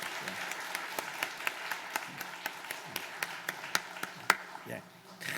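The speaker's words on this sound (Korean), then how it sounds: "우리 박수로 환영하십시오" A church congregation at a Sunday worship service applauds to welcome an elder, giving fairly soft, evenly spaced claps that carry on for several seconds in a roomy space.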